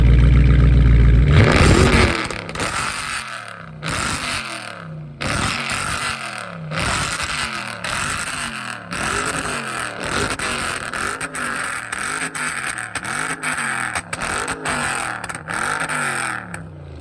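Close, loud car engine revving through an aftermarket exhaust tune, with repeated rising revs that drop off into crackling pops and bangs in a steady rhythm, alone without talk.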